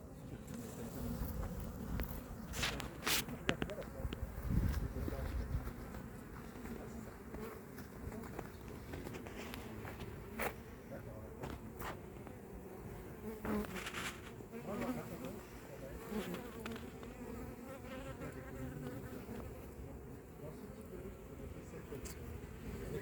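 Dense insect buzzing from many honeybees fills the scene steadily while a hive is installed in Boissise-la-Bertrand, with occasional louder passes close by and faint voices in the background.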